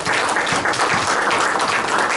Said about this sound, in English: big round of applause for all your work that you've done